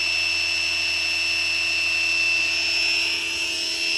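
A DIY CNC milling machine runs a program with its spindle near 5,000 RPM, giving a steady high-pitched whine with several sustained tones and a low hum, continuous and close.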